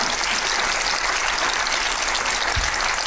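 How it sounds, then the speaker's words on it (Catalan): Applause sound effect mixed with sizzling frying bacon makes a dense, steady hiss-like crackle that runs loud and unbroken, with a brief low thump near the end. "es barreja els aplaudiments amb el bacon"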